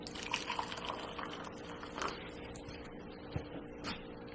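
Hot water runs from a kitchen tap during home cheese making, a low steady rush with scattered clinks and knocks of dishes nearby.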